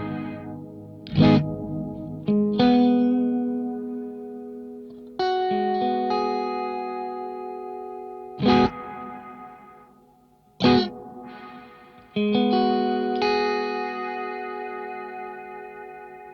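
Guitar chords through a Strymon NightSky reverb pedal set to its low pass filter, several strums with long lingering reverb swells and percussive hits in between, sounding full and warm without talk.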